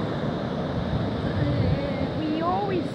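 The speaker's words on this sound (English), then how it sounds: "Look at these waves." Ocean surf at Eskasoni First Nation, a steady broadband wash of breaking waves with wind buffeting the microphone, continuous and fairly loud throughout, with faint voices underneath.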